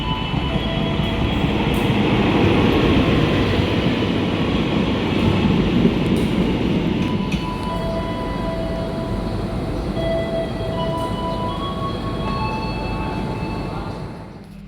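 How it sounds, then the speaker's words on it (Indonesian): A train rumbles loudly past while passengers wait at Duku station in Padang, a long steady roar with rattling wheels that slowly eases, with faint screeches and clanks near the end. "Jadi kita bakal nungguin kereta yang bakal lewat duluan."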